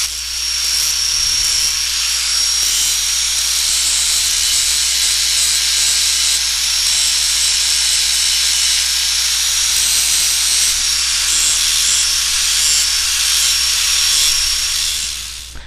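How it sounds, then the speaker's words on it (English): A hardened Alumaloy aluminum repair is ground down in a loud, steady, unbroken hiss of abrasion that holds at an even level for the whole stretch, with no voices. "go ahead and grind it"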